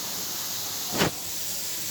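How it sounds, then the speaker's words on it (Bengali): Onions fry in a pan with salt and a little turmeric, giving a steady soft sizzling hiss with one short louder burst of spitting about midway, no talking. "এটা আবার ভাজা ভাজা হচ্ছে।"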